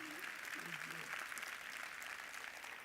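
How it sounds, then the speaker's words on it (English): An audience at a Doha GOALS 2014 event applauds in a dense, steady wash of clapping, with a voice speaking briefly over the start. "Let's give him a round of applause, ladies and gentlemen."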